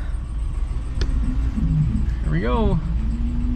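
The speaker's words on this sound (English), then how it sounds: "So we will put this thing in drive and see what happens here." A RAM 2500 Power Wagon pickup idles with a low, steady engine rumble as it is put in drive off-road; someone speaks briefly over it and there is a faint whine.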